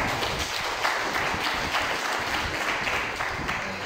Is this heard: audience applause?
yes